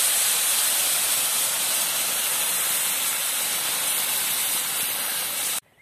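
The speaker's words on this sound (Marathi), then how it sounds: "यामध्ये आता आपल्याला टाकायचं आहे गरम पाणी" Hot water poured into roasted lapshi semolina for a jaggery lapshi, giving a loud, steady hiss that holds for several seconds and then cuts off abruptly.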